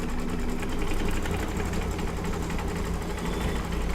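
Dream Machine 2 embroidery machine stitching, a steady close mechanical whir with quick repetitive needle clatter, continuous and fairly loud with no talk.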